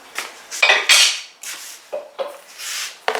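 Siopao asado dough being set into a pan and covered, with a string of close metallic clinks and knocks of pan and lid, some sharp and some scraping, spread irregularly over a few seconds with no talking.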